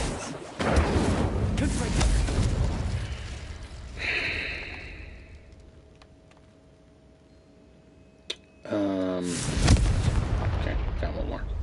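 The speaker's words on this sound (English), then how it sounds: "The cannons." Cannon fire in the Hogwarts Legacy video game: loud, booming blasts fill the start and end, with a single sharp crack between them and a quieter stretch in the middle.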